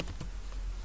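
Quick keystrokes on a computer keyboard as a class name is typed into a Kotlin file, a short burst of faint clicks with no talking.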